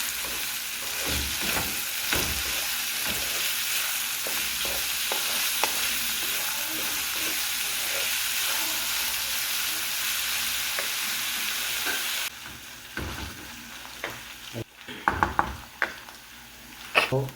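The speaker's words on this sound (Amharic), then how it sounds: "እነዚህ ሽንኩርታችን ከተጨመረ በኋላ እንደባልቃለን ማለት ነው።" Onions frying and sizzling in a pan while being stirred, for an Ethiopian alicha tibs dish, a steady broadband hiss with scattered scrapes and clicks of the utensil, then quieter stirring with a few sharp knocks near the end.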